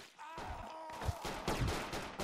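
Gunfire in the military shooter Project Reality, with scattered, rumbling shots and volleys at a moderate distance, a few heavier thuds standing out from a busy battlefield background.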